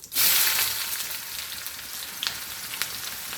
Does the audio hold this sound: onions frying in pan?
yes